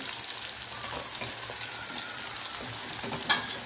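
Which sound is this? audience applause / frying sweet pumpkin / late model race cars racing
frying sweet pumpkin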